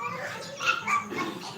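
A puppy yips and whimpers in short high bursts, fairly close, with a faint voice in the background.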